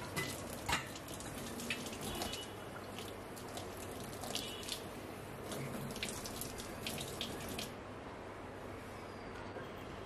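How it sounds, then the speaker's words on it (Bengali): Tap water runs steadily into a kitchen sink being washed after cooking, a constant close hiss and splash with faint clinks and scrubbing over it, no voices. "তো রান্না শেষ করে এখন সিঙ্কটা ভালো করে ধুয়ে নিচ্ছি"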